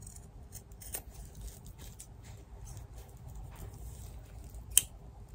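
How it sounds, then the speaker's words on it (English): Scissors snip the corners off fabric for a sashiko coaster, giving faint scattered clicks with one sharper cut near the end over a quiet room. "Scissors. I'm just going to take the corners off."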